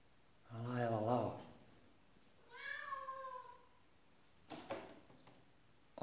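A tabby cat hunting a gecko lets out two distinct meows at moderate volume, the first longer and wavering, the second rising then falling, followed by a brief soft noise near the end.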